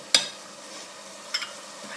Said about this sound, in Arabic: نقلي كله مع بعضه